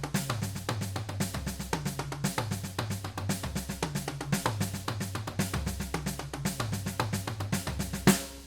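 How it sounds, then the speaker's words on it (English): A drum kit plays a fast, continuous paradiddle pattern with melodic tom voicing, the sticking moving around differently pitched toms over a steady kick and cymbal wash, loud and close, ending on a crash. "We're going to work on melodic voicing on the toms with this one"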